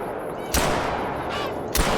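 Two shotgun blasts fired at Canada geese on a hunt, a sharp loud report followed by a second about a second later, each with a rolling outdoor tail over steady wind and field noise.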